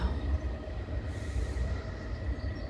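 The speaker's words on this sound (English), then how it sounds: "More trams." Trams passing beside Leith Kirkyard in Scotland, a low rumbling rolling drone with faint rail hiss and a steady wash of noise, moderately distant and quiet, with no talking.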